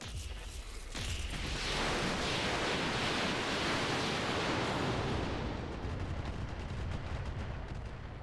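Massed weapons fire from BattleTech mechs in the RogueTech mod, opening with a sharp burst, then a loud, dense roar of overlapping blasts and rumble that stays sustained and heavy, with no voices.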